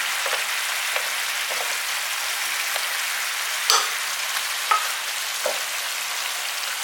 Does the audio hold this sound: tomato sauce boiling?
yes